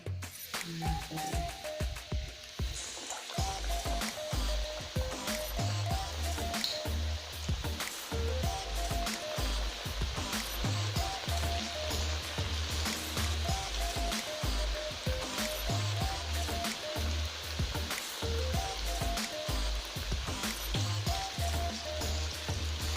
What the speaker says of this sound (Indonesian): Udang yang udah seperti ini semuanya kita udah lumuri dengan tepung basah juga tepung kering, lalu kita akan goreng ke sini.